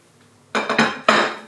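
A soup bowl and plate set down for serving roasted feta soup with bread, giving three quick close clattering knocks of ceramic in just over a second after a moment of near silence.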